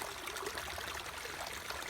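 Spring water at Colson Spring trickles by a hiking trail at Land Between the Lakes, a soft, steady, faint babble with no voices.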